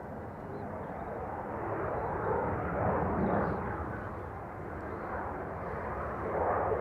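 Airliner at Dublin Airport applying reverse thrust on landing, a loud sustained low roar that swells and ebbs over several seconds without fading out.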